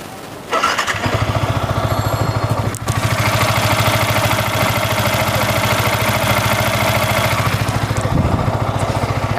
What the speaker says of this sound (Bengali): আপনারা এই বাইকের এখন জাস্ট একটু সাউন্ডটা দেখাবো